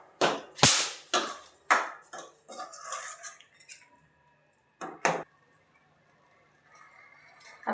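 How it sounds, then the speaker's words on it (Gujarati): A spoon scrapes and knocks against a pan while chikoo halwa cooks in ghee, giving several loud, close scraping strokes in an irregular rhythm, then a pause and a few more scrapes. "આપણે એકદમ ઘી છૂટું પડે ત્યાં સુધી આપણે આવી રીતે હલાવતા રહેવું"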